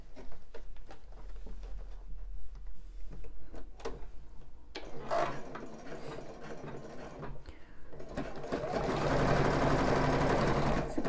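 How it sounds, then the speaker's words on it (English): A sewing machine stitches a bra band with a continuous mechanical whir and rapid ticking, steady at moderate volume, growing louder and busier toward the end. "just divert your stitching to follow that scoop"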